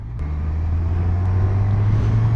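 A Yamaha 900 Diversion motorcycle engine drones steadily while riding, a low raspy hum sustained close and loud throughout with wind rush, no talk.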